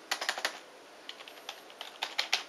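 Keys on a Logitech G15 V2 gaming keyboard are typed in irregular bursts of crisp clicks and clacks, close and fairly quiet, with short pauses between clusters and no talking.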